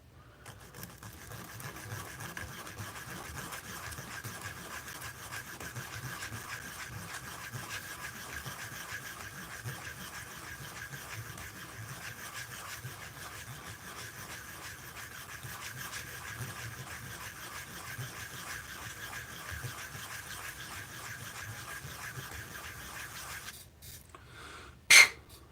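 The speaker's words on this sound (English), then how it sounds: "while you're doing this hand sanding like this" A steady, soft rubbing hiss continues for over twenty seconds as desert ironwood with turquoise inlay is hand sanded on a lathe, with a faint whine behind it, then a brief louder knock at the end.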